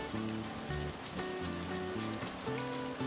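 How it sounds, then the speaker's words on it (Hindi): Light rain falling steadily outside, a soft continuous patter blended with a low, steady tonal background, no voices. "बारिश अभी भी हल्की फुल्की हो रही है।"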